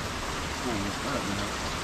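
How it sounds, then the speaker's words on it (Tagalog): Heavy rain pours in a steady, dense hiss, moderately close and constant, with voices murmuring faintly underneath. "Dahil sa malakas ang ulan."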